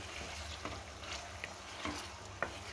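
Small pieces of aloe vera cooking over a low flame in a pan for a homemade face serum, giving a faint soft sizzle with occasional light scrapes and taps from the stirring spoon, close and quiet, with no voices.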